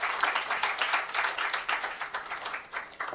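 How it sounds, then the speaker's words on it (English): A gathering at an NSE and BSE listing ceremony in Mumbai gives a brief, moderately loud round of clapping, with individual claps audible in an uneven patter that fades slightly. "Let's welcome him with a round of applause,"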